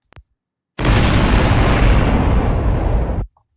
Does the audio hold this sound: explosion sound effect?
yes